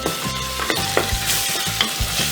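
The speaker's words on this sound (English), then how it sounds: "Fry till it is golden brown." Onions with ginger garlic paste sizzle steadily in a pan, with a few soft scrapes and knocks as they are stirred. No voices are heard.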